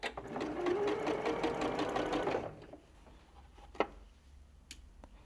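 A sewing machine stitches curved fabric pieces for a ginger jar quilt pattern, running in a fast steady whir for a couple of seconds close by, then stopping, followed by a couple of faint clicks.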